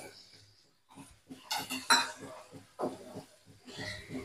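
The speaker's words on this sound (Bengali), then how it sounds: "মশলাটা কষানোর সময় আমি একটু গরম জল দিচ্ছি।" Spice paste being stir-fried in a pan for a Bengali egg curry, with hot water added; metal spoon scrapes and clinks against the cookware in irregular bursts, with light sizzling and stretches of near-silence, close and fairly loud.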